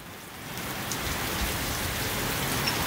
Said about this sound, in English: It's raining hard, too.